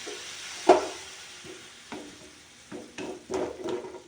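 Chopped onion and tomato stirred in a frying pan for chutney, with a series of spoon scrapes and soft clatters over a faint low sizzle, spaced unevenly and fairly close.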